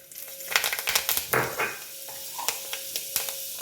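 Mustard seeds and fenugreek sizzling in hot oil in a pan, a crackling fry with rapid sharp pops in a dense burst that thins to scattered spits, heard up close.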